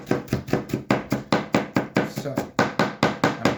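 Onion being chopped extra small on a board for a kid's tuna melt: rapid, steady knife strikes, loud and close, roughly four per second, with one brief spoken word near the start.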